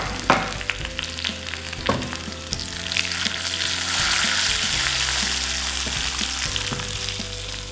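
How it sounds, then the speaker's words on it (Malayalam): Mustard seeds, curry leaves and dried chillies sizzle in hot oil for a Kerala sadya pineapple pachadi, a steady close frying hiss that swells midway, with a few sharp pops and clatters at the start and no talk. "എണ്ണ ചൂടാകുമ്പോൾ നമുക്ക് കടുക് ഇട്ട് കൊടുക്കാം."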